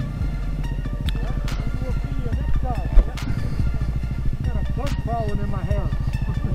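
A 2019 Honda CB500X motorcycle ridden in Oregon, its engine droning steadily and close throughout with shifting pitch, while people talk over it.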